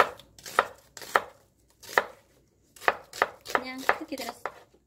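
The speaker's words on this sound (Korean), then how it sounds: "자, 야채를 일단 한번 썰어 두겠습니다." Vegetables being chopped on a cutting board with a knife for Korean spicy pork stir-fry; sharp, distinct knife strikes in an uneven rhythm, close and clear, with no talking.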